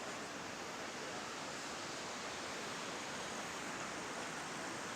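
Water pours over the Rockford Dam on the Rogue River in downtown Rockford, Michigan, a steady, broad rushing roar with no break, while someone talks quietly over it.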